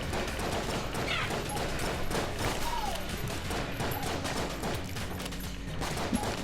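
Gunfire from the bullet-hell dungeon game Enter the Gungeon: dense, continuous volleys of shots and impacts over busy game music, loud and unbroken throughout.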